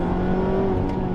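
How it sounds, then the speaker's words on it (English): A Mazda MX-5 ND2 Miata's 2-liter engine revs hard toward its high redline, a steady, loud, close-up engine note with a sustained tone and no talking. "This engine revs the highest out of any Miata."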